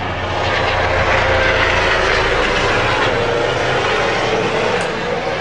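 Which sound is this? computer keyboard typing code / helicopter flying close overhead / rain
helicopter flying close overhead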